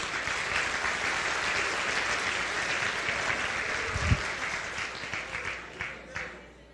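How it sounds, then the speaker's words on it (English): Sustained audience applause fills the room at a comedy talk after a Simon Says game, dense steady clapping from many hands that tapers slightly near the end. "Give yourselves a round of applause."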